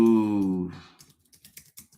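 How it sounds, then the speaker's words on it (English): Someone types on a computer keyboard, soft scattered key clicks following a brief voiced sound at the start. "Maybe I like just typing them."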